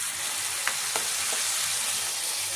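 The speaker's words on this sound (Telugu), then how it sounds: "ఇప్పుడు ఈ పోపు దీంట్లో వేసేసుకున్నాం." Hot tempering of garlic and curry leaves poured into a ground okra chutney off the stove gives a steady, close sizzling hiss with a few faint pops.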